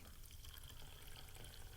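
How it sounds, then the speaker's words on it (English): Plain tap water pours steadily from a faucet into a cup, a continuous broadband rush of running liquid with no speech over it. "I'm going to fill this cup up with just plain old tap water."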